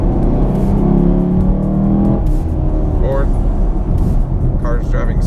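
A manual-shift car pulls away from first gear, engine pitch rising steadily and then dropping sharply at a gear change, with a second rising pull after it, heard from inside the car with a person talking over it.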